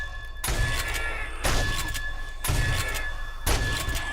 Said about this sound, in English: The sound afterwards almost sounds like my base is caving in after he throws the boulder